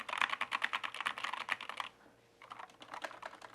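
Fast, clacky typing on an expensive mechanical keyboard, dense keystrokes up close, a short pause, then another quick burst of typing.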